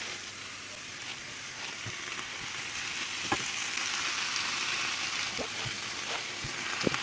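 Spinach sizzles and fries steadily in a pan, a continuous close crackling hiss with occasional soft clicks from stirring, and no talking.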